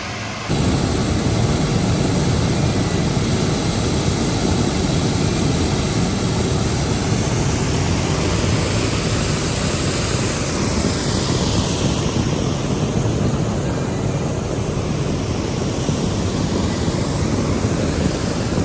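Bauxite cargo pours into a ship's hold at Amrun port in Australia, heard as a loud, continuous broadband roar of heavy loading machinery that runs unbroken throughout.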